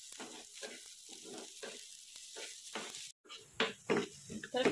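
Onion and garlic fry in a pan, crackling and sizzling in uneven bursts with stirring, while someone talks over it.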